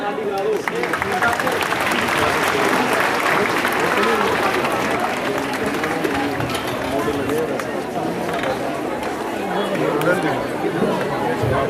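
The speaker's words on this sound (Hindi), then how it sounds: "सब खड़े होके एक बार तालियां" Standing audience of students and guests clapping at a children's science congress at a school in Chamba, a long, loud, continuous round of applause mixed with crowd chatter throughout.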